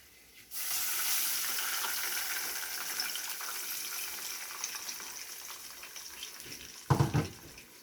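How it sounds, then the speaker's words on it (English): Water is poured into a pot of pasta, a steady, close rushing stream that tapers off toward the end, followed by a short clunk. "I am now going to add the water."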